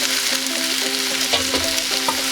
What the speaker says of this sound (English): Get it lightly browned in the pan.